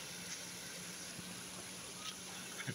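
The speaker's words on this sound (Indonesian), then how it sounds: "Mantar air terjun." A waterfall in Indrokilo botanical garden in Boyolali, Central Java, heard as a steady, faint broadband rush of falling water, continuous and distant, with a few small knocks on top.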